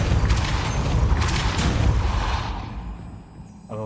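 A Depulso spell cast in Hogwarts Legacy, heard as a loud, dense rumbling blast that fills the first few seconds and then fades away, followed by a faint tonal game sound at the end.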